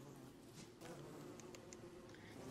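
Wasps buzzing in the Don't Starve Together video game, a faint continuous insect drone with a few brief higher flickers, steady and low in level with no talk.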